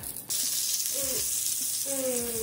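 Syrniki, Ukrainian farmer's cheese pancakes, fry over low-medium heat in coconut oil in a pan, giving a steady, close, loud sizzle and hiss throughout.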